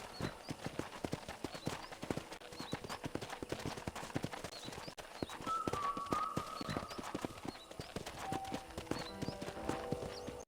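Steady clip-clop of horse hooves while riding in the video game Red Dead Redemption, a continuous rhythmic trot heard close with faint game ambience and occasional tonal sound effects.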